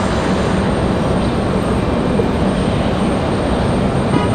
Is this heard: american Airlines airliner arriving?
yes